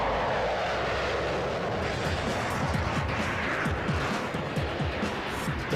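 Lockheed Martin F-22 Raptor jet fighter flying near Edwards Air Force Base, a loud continuous roar of jet engine noise with a steady broadband rush and rumbling low-end pulses, no voices.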